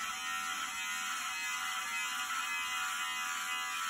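A beard trimmer hums steadily while cutting hair at the base of the neck during a medium fade self-cut, a close, constant high-pitched electric buzz with no speech.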